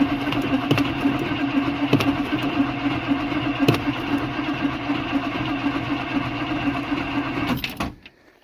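A cold 1978 motorhome engine cranking over repeatedly without catching, a steady rhythmic starter churn with periodic heavier beats, close and loud, then stopping.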